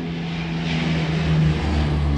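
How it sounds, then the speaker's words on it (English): Low-flying aircraft passes overhead above a home on a flight path in summer: a steady, loud droning engine hum with a strong low tone swells slightly at its peak and holds throughout, with no one talking. "We have a low-flying plane going overhead."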